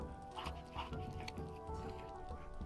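A virtual dog in a VR video game gives a few soft whimpering, yelping sounds over a constant low background hum.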